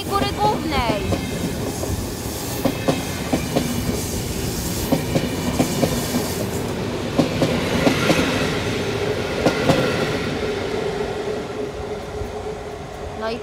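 A freight train passes at Warszawa Główna Towarowa with steady rolling rumble and rhythmic clickety-clack of wheels over rail joints, loud and close, with metallic squeal tones and a faint voice in the mix.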